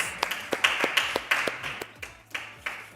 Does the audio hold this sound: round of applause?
yes